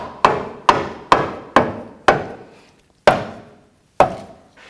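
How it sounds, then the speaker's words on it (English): A rubber mallet taps the front lower control arm of a 2008–2014 Cadillac CTS into place: seven evenly spaced, solid thuds, each with a short decay, close and loud with no talking. "Just take a rubber mallet or a dead blow."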